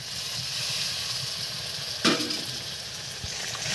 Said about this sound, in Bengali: মশলা কষানোর সময় দিয়ে দেবো হালকা একটু জল